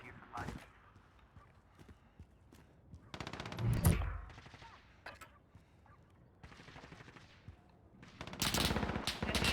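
Scattered gunshots and bursts of shooting, mostly distant with a louder volley midway and another near the end, under frequent talking.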